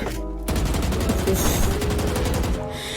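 Rapid automatic gunfire in Valorant, a fast rhythmic burst of shots lasting a couple of seconds, loud and close, with a short gap at the start and a brief tail at the end.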